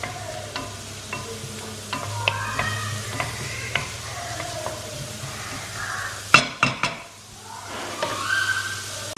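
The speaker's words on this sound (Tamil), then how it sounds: "ஒரு 2 மினிட்ஸ் சாட்டே பண்ணி விடுங்க." Green chillies sautéing in a pan give a continuous crackling sizzle with repeated stirring scrapes and a burst of metallic clinks from utensil against pan midway, close by and without voices.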